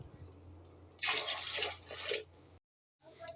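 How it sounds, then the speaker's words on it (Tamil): Water poured into a sambar pot, a loud continuous splashing stream lasting about a second and a half, then a short drop to silence. "இப்போ கொஞ்சம் தண்ணி ஊற்றிக்கலாம் தேவைப்பட்டால்."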